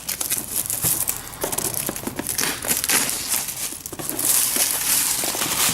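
Cardboard box packaging for an X-Wing board game is opened with a small paper cutter, giving close, continuous crinkling, scraping and tearing of card and plastic wrap, with irregular crackles and rustles throughout.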